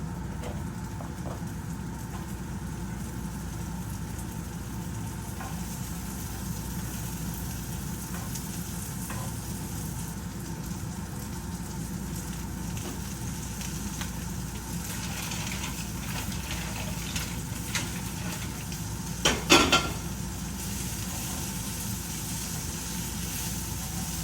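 Radish stems sautéing in a hot pan, a steady, even sizzle and hiss throughout, with a brief clatter of stirring near the end.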